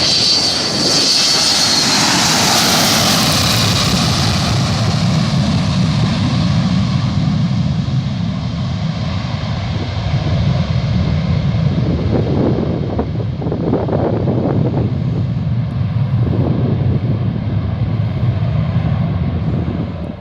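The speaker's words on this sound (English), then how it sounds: "This Aerosucre Boeing 727 crew retracted the landing gear immediately after takeoff," An Aerosucre Boeing 727 jet takes off with a loud, continuous engine roar that stays close and powerful throughout, with gusty wind buffeting the microphone and a slowly shifting whine on top.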